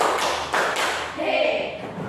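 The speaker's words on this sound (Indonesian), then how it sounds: "Tepuk tiga." A class of primary school pupils at SD Negeri 3 Tanrutedong claps together in a short burst of three quick group claps near the start, then voices and classroom chatter take over.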